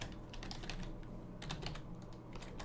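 Keys clatter on a computer keyboard during programming work, a close, quiet patter of rapid, uneven strokes in short bursts, with no speech.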